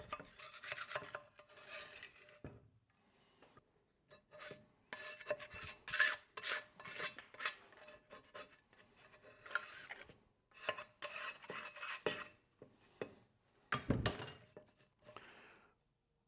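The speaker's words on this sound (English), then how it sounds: "scrape that off, get it cleaned up" Scraping clean the mounting plate of an old Honda GX140 engine from a sprayer, close rasping strokes in irregular bursts with short pauses and an occasional knock.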